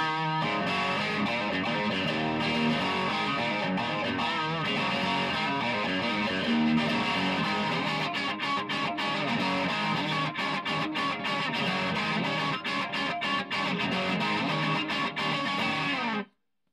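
Fender Stratocaster Bonnie Raitt series with Texas Special pickups, booster off, plays a steady, loud stream of gritty electric guitar notes for about sixteen seconds before cutting off abruptly.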